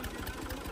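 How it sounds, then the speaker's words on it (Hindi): A tractor engine running, with a faint, rapid, even chugging pulse over a dense mechanical rumble. "अली ट्रैक्टर चला रहा है।"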